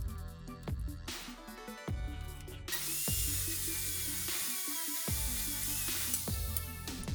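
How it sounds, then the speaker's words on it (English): A power saw rips a wooden board for footboard trim, a steady loud whirring cut that rises partway through and continues to the end, with background music at the start. "I'm going to rip this board down so that I can use it as the top piece of trim"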